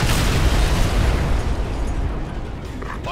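An airstrike explosion in Ghost Recon Advanced Warfighter 2 erupts as a loud, deep boom that rolls into a long, rumbling decay, with faint chatter near the end.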